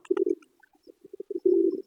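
Soft, low cooing from a weak pigeon in short throaty bursts, ending in a longer rolling coo, close by and quiet otherwise.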